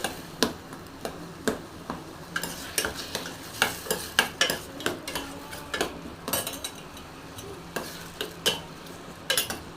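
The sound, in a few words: stirring and roasting ingredients in a pan for pineapple sheera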